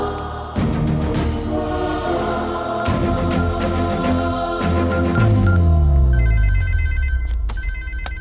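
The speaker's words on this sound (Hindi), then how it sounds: "ये इस वक्त क्यों फोन कर रहा है?" A telephone rings loudly and continuously with a bright, repeating electronic bell, close and alone, with no talking over it.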